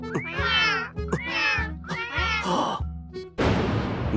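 Animated cats in an anime episode let out three drawn-out, close meows in a row, followed by a brief noisy rustle and a burst of broadband noise at the end.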